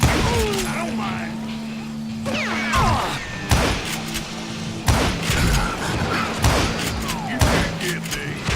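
Gunfire from a shootout at a wooden sawmill in the video game Call of Juarez Gunslinger, with sharp repeated shots and crashes over a steady low hum and background music.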